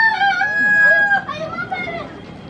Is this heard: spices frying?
no